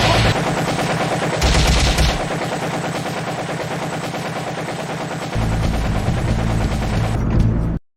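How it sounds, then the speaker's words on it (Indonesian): Gatling gun firing a barrage of bullets, a dense, continuous rattle of rapid shots that stays loud and close for about seven seconds, swelling heavier partway through, then stops abruptly. "Kanryu kembali menyalakan senjata mematikannya dan menembakkan rentetan peluru ke arah Hanya yang terus mendekat"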